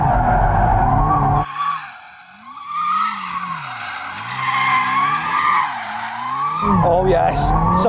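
A supercar's tyres skid and squeal loudly while being warmed up before a drag race, with a roaring engine rising and falling through revs, close and sustained for several seconds.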